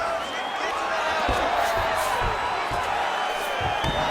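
A crowd at a UFC 5 video game fight between Khabib Nurmagomedov and Khamzat Chimaev sends up a steady roar and cheers, with a few dull thuds from the fighters mixed in.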